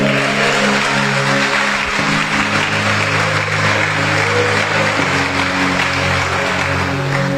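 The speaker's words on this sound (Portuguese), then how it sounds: "levanta um aplauso ao Senhor" A church congregation claps together during a sermon, a broad steady wash of applause over a low sustained hum of music or amplification that continues throughout.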